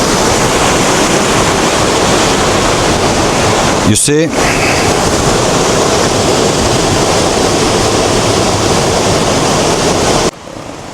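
Cold river water rushes loudly and continuously, a dense close roar with wind buffeting the microphone, broken by a short voice and a brief handling sweep partway through.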